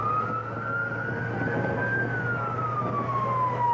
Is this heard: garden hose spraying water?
no